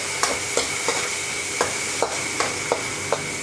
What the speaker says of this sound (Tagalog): Ilalagay na natin yung kamatis at saka pork